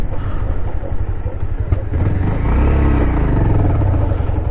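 A motorcycle engine runs close by as the bike is being parked on a hill road near Sem Mukhem in Uttarakhand, with a steady rumble that swells into a louder rev partway through, no voices over it.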